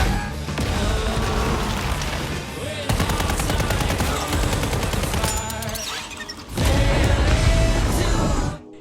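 A film firefight breaks out with loud, dense gunfire, a near-continuous rattle of rapid shots and bangs that runs for several seconds, eases briefly, then returns heavy and close.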